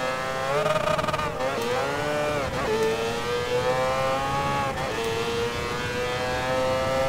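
A Mazda 787B race car engine in Gran Turismo Sport screams at a high pitch, climbing through revs and dropping sharply at several gear shifts, loud and continuous with no talk.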